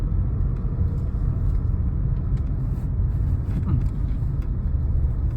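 A Mahindra XUV car drives on a road after a gear change, a steady close engine and road rumble from inside the cabin with no pauses.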